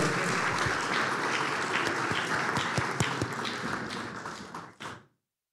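A forum audience gives a panel on defending democracy in the Americas a loud, sustained round of applause, with dense clapping and a few sharp individual claps before it stops abruptly.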